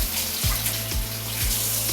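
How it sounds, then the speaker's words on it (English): Tap water runs steadily into a sink during handwashing, a continuous close splashing hiss with a faint periodic low pulse underneath. "Oh, I forgot, I need to wash my hands."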